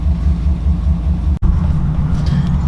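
A 2008 Chevrolet Silverado engine with straight pipe and headers rumbles at idle, a loud, deep, throbbing exhaust close by, with one abrupt momentary cut in the middle.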